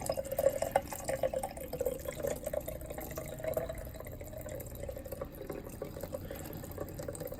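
Water runs from an RV sink faucet while bleach solution is flushed through the lines from a full fresh water tank in a NuCamp 400 trailer, a steady faint trickle with irregular splashes and no talk.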